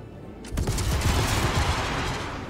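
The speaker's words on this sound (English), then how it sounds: "So it seems like the missiles, it can launch four simultaneously." Sabre Firebird missiles launching in Star Citizen, several fired at once: a sudden loud whooshing blast that holds as a dense roaring rush for about two seconds, without speech.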